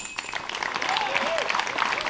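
Crowd at a disc golf tournament in Rochester claps steadily, a broad wash of applause with a commentator talking over it.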